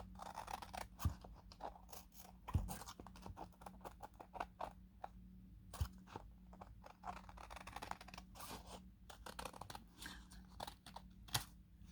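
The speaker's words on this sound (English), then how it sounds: "And then cut it down here so it matches the other pages." Scissors cutting junk journal paper down to page size give many quiet, close snips and crisp paper rustles in an irregular rhythm against a low, steady hum.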